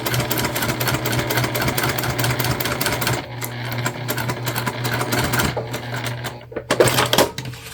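A sewing machine top stitching a bag strap hums in a steady, close, rapid run, briefly pausing and restarting, then ending with a few clicks and handling sounds.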